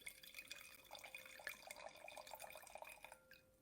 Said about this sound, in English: Let me just pour it by the microphone so you can hear it going in the glass.